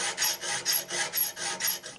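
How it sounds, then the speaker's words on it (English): A hand file rasps across a billet steel steering column mount in even back-and-forth strokes, about eight rhythmic scrapes in quick succession, close and clear with no voices. "More filing needed."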